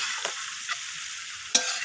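Vegetables sautéed with cumin powder in a pan, a soft, fairly quiet sizzle with a few light scraping stirs spaced apart and one sharper clink near the end.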